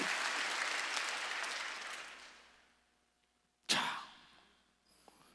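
A church congregation at a Wednesday worship service claps in a broad burst that fades to near silence, followed by a sharp single knock and faint sounds.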